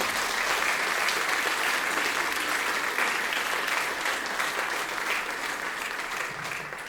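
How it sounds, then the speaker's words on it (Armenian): An audience at a school concert claps warmly for the parents, a dense, steady applause from a large indoor crowd that stays full for several seconds before tapering off slightly at the end. "Ծափահարենք մեր բոլոր ծնողներին։"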